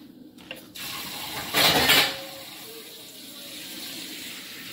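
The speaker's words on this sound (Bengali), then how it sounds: "জল দিয়ে দেব।" Water poured from a vessel into a pan of marinated fish, a brief gushing splash that swells for about half a second amid quiet kitchen background noise.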